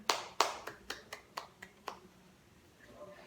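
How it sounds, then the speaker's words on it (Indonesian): In a fourth-grade Catholic religion classroom, a few sharp, separate hand claps ring out close by, roughly eight in a slowing, uneven rhythm that fades in strength before the room goes quiet. "tepuk tangan untuk kita semua"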